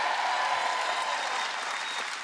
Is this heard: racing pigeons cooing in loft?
no